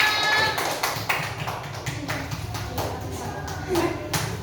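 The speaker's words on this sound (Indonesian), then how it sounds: "Kita beri tepuk tangan untuk kelompok 2 dan kelompok 4." Students in a classroom applaud groups 2 and 4: a scattered patter of claps and taps, fairly close, running steadily with a teacher's voice talking over it.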